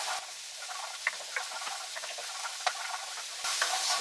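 Minced chopped garlic sizzles in a hot pan as a steady hissing fry, with small pops and a few stirring clicks, close and moderately quiet with no voices.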